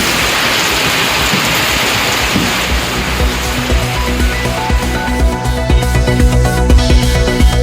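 Night rain falls in Tirupattur, Tamil Nadu, as a dense, steady hiss of drops on surfaces, with a faint tonal background creeping in toward the end.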